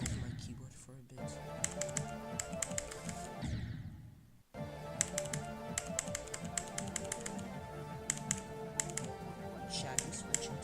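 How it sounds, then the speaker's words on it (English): Computer keyboard typing and key tapping while a game is played, steady clicking through most of the stretch, mixed under game sounds with a brief dropout near the middle. "Let me try playing with my keyboard for a bit"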